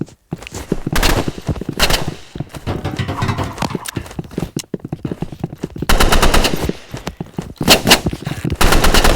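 Machine gun fire in a video game, with loud rapid bursts separated by short pauses and irregular clusters of shots, close by, and no talking.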